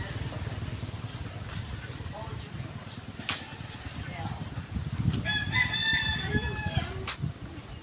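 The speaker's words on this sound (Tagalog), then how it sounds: "may manok pa" A rooster crows at around five seconds along a roadside bypass, a harmonic call rising over steady traffic rumble and background chatter from people walking nearby.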